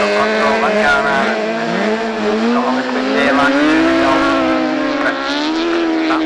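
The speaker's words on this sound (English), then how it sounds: "So Jordy Glover slides it round in 71" Autograss race cars sliding round a corner at a Scunthorpe meeting, with loud continuous engine howl rising and falling as they skid through, a commentator talking over the top throughout.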